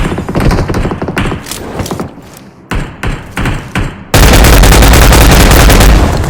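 Loud gunfire from an unfamiliar weapon in a video game comes in several separate bursts of sharp thudding shots, then gives way to a dense, sustained roar of sound near the end.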